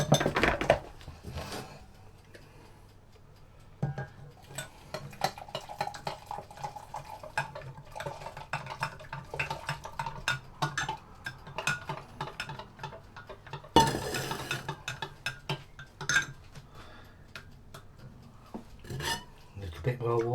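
A spoon scrapes and clinks against a pan while homemade gravy is stirred, an irregular run of close metallic taps and rubs under a faint kitchen background.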